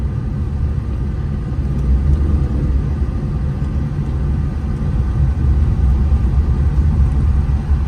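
Toyota Land Cruiser VXR engine running, a loud, steady low rumble and whir heard from inside the vehicle as the RPM fluctuates on its own, with no talking.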